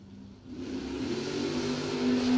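A drag-racing engine, from either a Chevrolet Nova or a Fox body Mustang at the Coal Rush event, revs and rises steadily in pitch and loudness, heard from a moderate distance with no talk over it.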